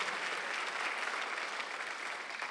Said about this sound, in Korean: 박수 하나 더 주시오.